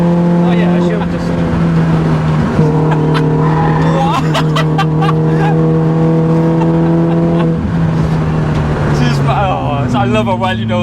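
A cammed Citroen C2 rally tribute car launches hard, its engine note rising steadily through the revs with tyre squeal and a gear change, loud and close throughout, with people talking inside the car.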